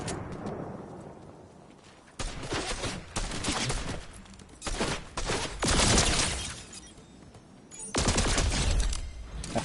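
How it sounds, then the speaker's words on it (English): Gunfire in a Fortnite match: loud bursts of rapid automatic shots and blasts in several clustered volleys, separated by brief quieter gaps, close and harsh. "Absolutely shooting at me"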